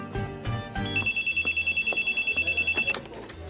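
An old-style telephone bell rings in a steady rapid trill for about two seconds, loud and close, after a few louder clattering knocks at the start.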